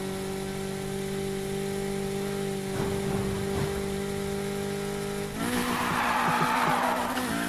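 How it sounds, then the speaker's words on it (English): Tires of a Honda Civic Type R skid while drifting in Need for Speed, a steady engine drone holding underneath before a harsh, broad screech swells in near the end, loud and close. "Love drifting. Or, you know, like the harsh stop."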